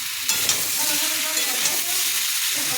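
Spice paste sautéing and being stirred in a pan with ridge gourd, potatoes and red lentils, a steady close sizzle with scraping stirs and small clinks throughout, no voices.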